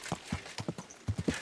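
Horse hooves clip-clop in Kingdom Come Deliverance 2, a steady run of about eight close, clear beats at a walking rhythm with no talk over them.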